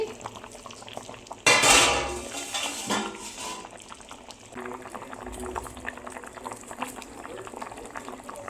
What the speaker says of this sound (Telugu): ఒక 10 మినిట్స్ మనం ట్యాప్ పెట్టి మగ్గనివ్వాలి